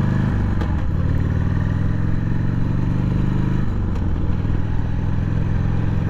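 Harley-Davidson Sportster 883 motorcycle pulling away in first gear on a rustic country road, its loud, close V-twin engine revving up steadily and then easing off partway through.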